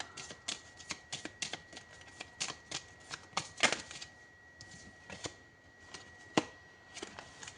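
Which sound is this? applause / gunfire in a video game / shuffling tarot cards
shuffling tarot cards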